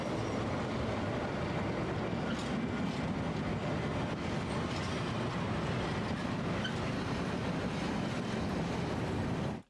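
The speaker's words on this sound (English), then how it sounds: "The train's gonna pass" A train thunders past in a film scene, its loud, continuous rumble and rolling wheel noise filling nearly ten seconds before cutting off abruptly.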